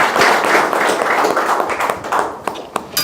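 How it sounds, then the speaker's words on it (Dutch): A crowd at a Suriname government event on security applauds ahead of a speech by the Minister of Justice and Police, Harish Manore. The clapping starts as a dense, close burst, then thins into scattered individual claps. "Mag ik een applaus?"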